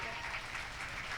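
A crowd claps steadily at a teacher's day ceremony, an unbroken wash of applause from many people in a hall.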